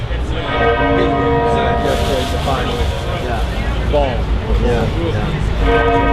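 Church bells toll in the City of London near the Bank of England, ringing steadily with ongoing background voices and outdoor bustle mixed in.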